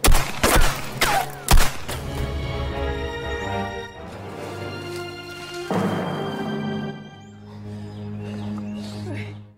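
Several sharp gunshots crack in quick succession from a film scene, followed by quieter tonal background sound and voices.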